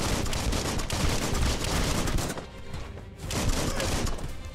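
Shotgun fire in the video game Biomutant, a dense run of sharp, overlapping blasts and impacts crowding together, loud and continuous, with a brief lull before the shooting picks up again.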